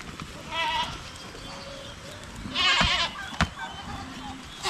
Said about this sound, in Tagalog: sa ating mga kambing